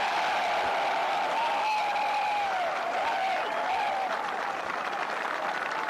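A large golf crowd at the 148th Open Championship at Royal Portrush applauding a shot, steady sustained clapping heard from a distance with scattered whistles.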